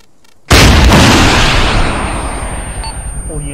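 A loud weapon impact explosion in a military combat video game, hitting suddenly after a near-silent moment and rolling off into a long, dense rumble that slowly fades, with faint radio-style chatter beneath.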